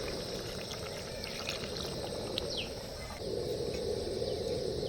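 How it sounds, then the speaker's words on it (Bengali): Hot water, heated beforehand, pours into a pan of chicken cooking with goat fat, a steady broadband rush that grows louder partway through over an ongoing low sizzle. "এবার আমরা দিয়ে দেবো আগের থেকে গরম করে রাখা জল"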